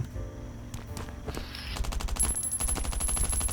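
Several gunshots fired as a signal in the survival game Last Island of Survival, a ragged run of sharp cracks over steady game ambience, growing denser and louder toward the end.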